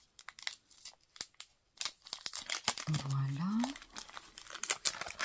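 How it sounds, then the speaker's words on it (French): Plastic packaging around a stamp set is torn open and crinkled near the mic in a run of sharp rustles and crackles, with someone speaking briefly over it. "Alors on va ouvrir comme ça."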